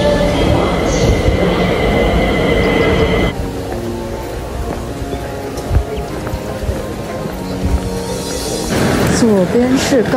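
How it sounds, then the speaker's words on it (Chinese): At a station in Taiwan, high-speed rail and Taiwan Railway trains rumble loudly and steadily, with a passing rail screech near the end and people talking in the background. "左边是高铁，右边是台铁"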